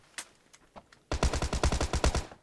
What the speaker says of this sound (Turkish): Bana Thompson'da kim sıkıyor?